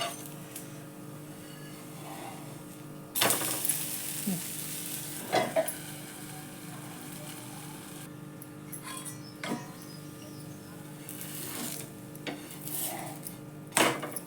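Rava dosas cooking on a hot griddle, a low steady sizzle with a faint hum beneath, interrupted every few seconds by sharp metallic clinks and scrapes of a spatula or ladle.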